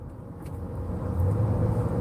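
A car engine rumbling and climbing as it downshifts in slow traffic near I-94 and Gratiot, a low drone that grows louder and deeper toward the end, heard from inside the vehicle with no talk.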